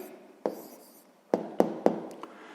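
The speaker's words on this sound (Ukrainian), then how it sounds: "Записуємо тоді відповідь." A pen writes an answer by hand on paper during a sixth-grade math exercise, a few faint scratching strokes broken by several sharp taps as the pen touches down, close and quiet, without talk.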